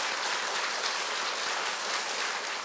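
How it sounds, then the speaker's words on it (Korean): An audience at a citizen lecture held at the Korean National Assembly gives a round of applause, a steady, even wash of many hands clapping that carries on unbroken for the whole moment without any voices. "다시 한번 큰 박수 부탁드리겠습니다"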